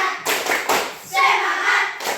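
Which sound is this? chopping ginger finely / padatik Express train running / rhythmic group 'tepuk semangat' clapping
rhythmic group 'tepuk semangat' clapping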